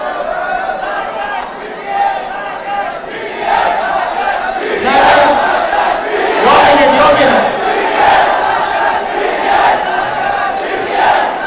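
A large crowd chants political slogans at a student gathering at Nishtar Hall in Peshawar. Loud massed voices surge in rhythmic waves and swell midway, sustained and dense throughout.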